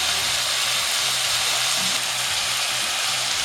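Onion, tomato, ginger-garlic and masala frying in oil for a Tamil mutton curry (kuzhambu), giving a steady, dense sizzle that holds close and fairly loud the whole time, with faint low stirring bumps and no talk.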